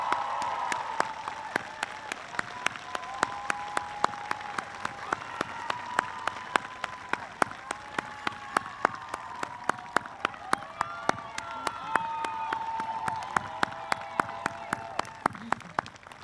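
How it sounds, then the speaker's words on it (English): A commencement audience at Saint Mary's College in 2024 applauds the valedictorians, with sustained crowd clapping and a voice carrying over it through much of the stretch. Sharp individual claps stand out above the wash. "Please give them a warm round of applause for our valedictorians."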